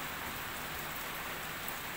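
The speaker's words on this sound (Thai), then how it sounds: "ได้ยินเสียงฝนไหมครับ" Steady rain falls throughout at a Thai roadside spot serving Soi Ju spicy minced meat, a dense, even hiss of drops on surfaces with no voices.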